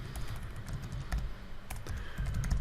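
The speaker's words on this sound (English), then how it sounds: "if I can type" Quick, close keystrokes clatter on a computer keyboard in a continuous burst of typing, with a few sharper key taps standing out.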